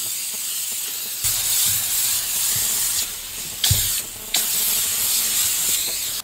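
Several bursts of pump-spray interior cleaner hiss close by onto car seat fabric in a Nissan Micra K11, each a sustained spritz separated by brief pauses, with no talking.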